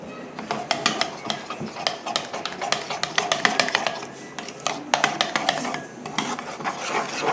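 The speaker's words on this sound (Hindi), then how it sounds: "आधा डालकर हमने अच्छी तरह चम्मच से मिक्स करना है" A spoon stirs achar gosht masala into chicken, with quick rhythmic scrapes and clinks against the bowl that come close and fairly loud.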